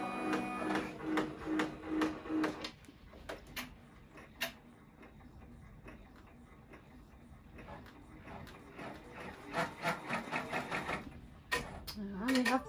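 Domestic embroidery machine sewing a placement stitch for an in-the-hoop bib, giving rapid rhythmic ticking and clattering in bursts, pausing in the middle then resuming, close and moderately loud.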